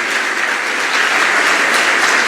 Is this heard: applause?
yes